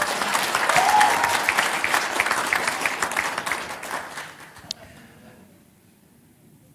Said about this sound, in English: That is why everyone is clapping all the time.